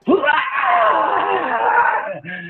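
A voice lets out one long, loud, strained scream, imitating a warrior being stabbed through the gut during a tabletop fantasy battle. The cry rises sharply, holds for about two seconds, then breaks off.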